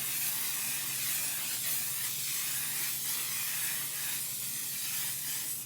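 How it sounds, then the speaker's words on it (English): Hairspray sprayed onto a face during makeup, a steady close aerosol hiss that runs continuously for several seconds. "I use the hairspray on my face because nobody got that."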